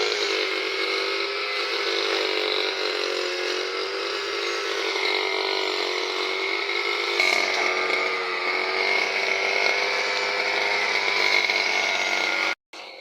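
A grass cutter trims heavily overgrown grass near a clubhouse, its engine holding a steady, buzzing whine at moderate volume before cutting off abruptly near the end.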